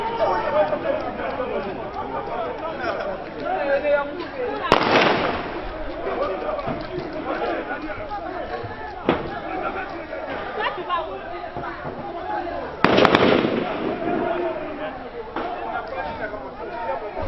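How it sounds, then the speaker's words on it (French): Live-ammunition gunfire rings out during clashes between protesters and security forces in Guinea on the 2020 election day: two loud, sharp bursts several seconds apart cut through constant crowd chatter and voices. "Les tirs à balles réelles retentissent."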